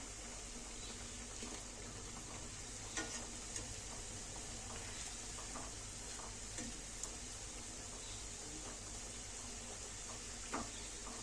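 Medu vada, urad dal fritters, deep-frying in hot oil, a faint, even bubbling sizzle running throughout with a few light ticks and crackles, no talking.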